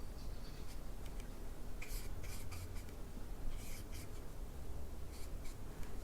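Thin gouache is brushed across paper to block in a forest scene, making faint, close, papery scrubbing strokes in irregular clusters separated by quiet gaps, with no voices.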